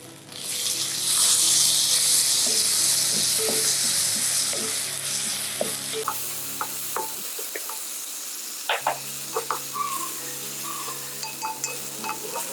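Tomatoes fry in a pan while a biryani is cooked, giving a loud continuous sizzle at first that drops to a quieter hiss with scattered stirring clicks. Nobody speaks.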